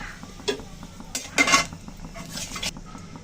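Dried red chillies and a bay leaf drop into hot oil in a kadai, giving a few short bursts of crackling sizzle among clinks and scrapes of a metal utensil against the pan.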